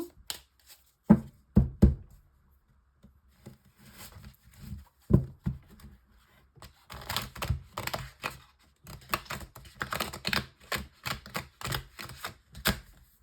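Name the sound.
shuffling tarot cards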